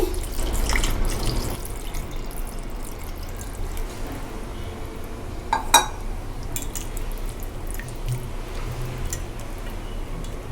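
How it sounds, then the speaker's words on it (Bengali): Water is poured into a cooking pot of small fish, splashing loudly for the first moment and then settling into quieter watery bubbling with a brief metallic clink midway. "পানি দিয়ে দিচ্ছি"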